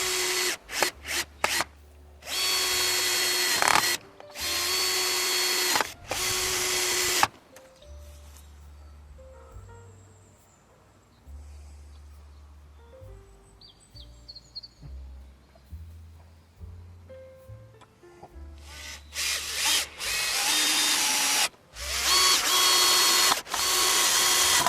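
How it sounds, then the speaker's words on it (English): A power drill drives long screws into wooden fence posts outdoors, loud whirring bursts starting and stopping repeatedly, with quieter clicks and handling noise between runs and more drilling at the end. "then we'll screw it to the upright posts, but we'll also put a long screw through the post and into this diagonal as well"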